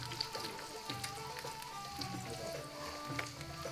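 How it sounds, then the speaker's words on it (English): Okra fries in a pan, giving a soft, steady sizzle with scattered light crackles and pops, faint and close, with no voices. "We want to fry it now. Not too much, just a little bit. Fry little by little."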